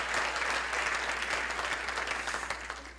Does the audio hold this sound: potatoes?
no